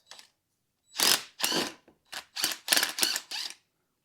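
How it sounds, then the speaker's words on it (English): An impact wrench hammers at the top nut of a rear shock on a 2013-2019 Ford Escape, seven or so sharp loud rattling bursts separated by short silences. "First, I'm going to try to just loosen it with my impact."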